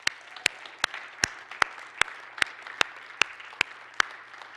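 An audience at a talk on social self-care gives a thin round of applause, heard as sparse, sharp individual claps spaced fairly evenly over several seconds rather than a dense roar.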